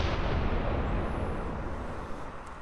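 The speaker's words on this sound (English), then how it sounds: "And also we have this explosion sound." Booming explosion effect placed in a music beat, a loud dense rumble that hits at once and slowly decays over a few seconds, with no talk.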